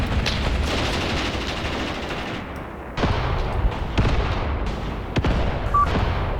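Tank cannon blasts and gunfire ring out in a Graviteam Tactics battle near a village, a dense rumbling barrage with sharp individual shots cracking through and a few heavier booms, loud and continuous, with no one speaking.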